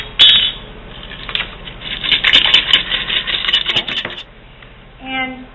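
Dehydrated potatoes are poured from a jar into a pot of water, making a dense, loud rattling patter of dry pieces that lasts several seconds and then trails off into a short clink.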